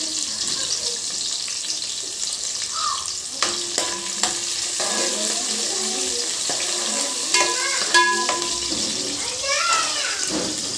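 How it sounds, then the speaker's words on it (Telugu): Mustard seeds and cumin crackle in hot oil while green chillies and onions fry, a steady sizzle with scattered pops and a few clinks of a stirring utensil, close by. "ఆవాలు, జీలకర్ర చిటపట్లాడుతున్నాయి"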